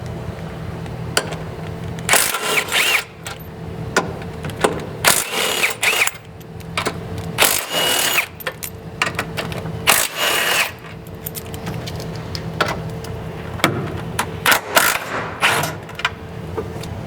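Bolts are loosened and backed out of a Toyota Tacoma's rear hitch with a power tool, which gives repeated loud bursts of whirring and rattling, a few seconds each, between quieter clanks of metal in a garage setting.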